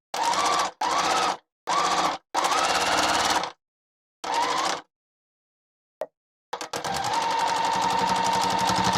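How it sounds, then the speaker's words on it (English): A sewing machine stitches slowly over pins, running in several short buzzing bursts separated by pauses, then settling into a longer steady run. "I do sew over my pins. I just, I take my time and hope for the best. And I go slow over them."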